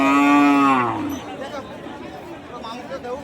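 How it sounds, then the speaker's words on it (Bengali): A thin cow at a livestock market in Bangladesh lets out one loud, close moo that lasts about a second. A low murmur of crowd chatter continues behind it. "এই সুন্দর সাইজের এই হাড্ডিসার গাভী গরুগুলি।"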